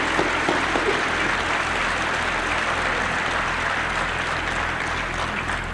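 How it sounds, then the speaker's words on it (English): Sustained applause from a large crowd at a 1993 university convocation, dense and steady clapping without pause throughout. "they deserve our warmest applause"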